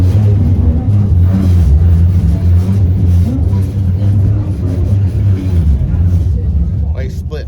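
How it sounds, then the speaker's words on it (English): On a narrow hill road in South Africa, oncoming cars rumble and rev past the vehicle in a loud, continuous engine drone, with people talking over it. "We got oncoming traffic."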